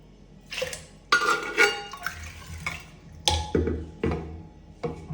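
Soaked rice and lentils for fenugreek porridge are tipped into a pressure cooker: wet sloshing pours and clinks of a metal vessel and spoon come in several close bursts separated by short pauses.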